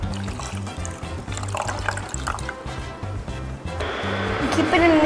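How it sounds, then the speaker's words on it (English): Water pours steadily into a saucepan of sugar for kunafa syrup, a bright rushing splash building toward the end, over low background hum and faint music. "Next, add the water."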